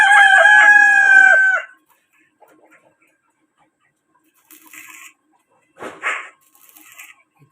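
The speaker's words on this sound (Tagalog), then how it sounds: "nakikisali pa yung manok eh." A loud rooster crow rings out up close at the start, followed by quiet scattered clucks and shuffling sounds.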